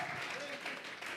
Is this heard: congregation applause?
yes